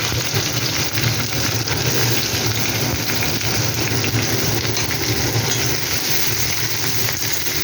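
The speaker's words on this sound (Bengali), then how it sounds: "পেঁয়াজটা হালকা ব্রাউন কালার করে ভেজে নেবো" One large chopped onion fries with whole spices in a pan, browning lightly, giving a steady, even sizzle that stays close and constant without pause or talk.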